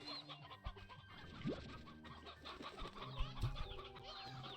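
A hen in Slime Rancher 2 gives a few faint scattered clucks over quiet in-game ambience.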